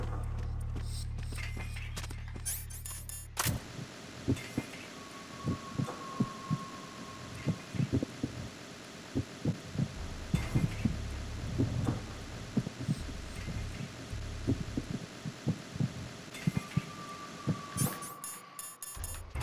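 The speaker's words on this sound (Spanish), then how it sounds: "El típico latido." Repeated heartbeat thumps from the stealth game Metal Gear Solid 2: Sons of Liberty, a steady low throbbing pulse under droning ambient game sound and occasional radio chatter tones, continuing for nearly twenty seconds.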